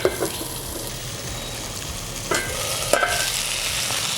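Chopped chillies, ginger and garlic fry over low to medium flame in a pan, giving a continuous close sizzle with a few scraping stirs and a brief watery splash, no talk.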